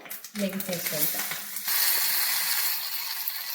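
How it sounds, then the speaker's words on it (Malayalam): Mustard seeds, green chilies and curry leaves hit hot coconut oil with a few crackles and pops, then a loud, continuous sizzle that holds steady to the end. "അപ്പോൾ എണ്ണ നന്നായി ചൂടായിട്ടുണ്ട് കടുക് പച്ചമുളക് കുറച്ച് കരിവേപ്പിലയും കൂടി"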